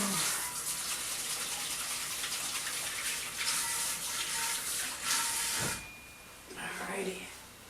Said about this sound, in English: Just rinse my hands again.